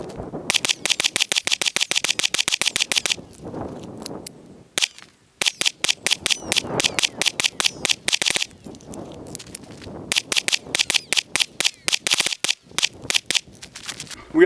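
Rapid 9mm pistol shots crack out in long strings, each burst a fast run of sharp, loud reports separated by brief pauses, close and dry during a weapon-mounted light test.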